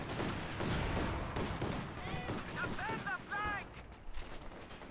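Gunfire in a real-time strategy game, dense crackling shots and rumbling bursts packed together over a steady noisy battle bed, with brief chirping unit sounds mixed in partway through.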